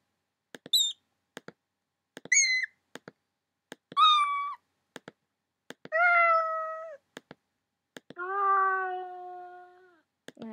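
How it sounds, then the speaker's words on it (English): A series of cat meows, short high ones at first, then longer and deeper drawn-out calls, each separated by soft clicks and silence. "That sounds like a really big cat."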